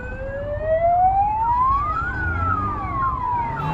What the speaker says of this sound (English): I'll let the ambulance move.